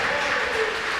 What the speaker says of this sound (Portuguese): Você não aplaude ao Senhor, irmão?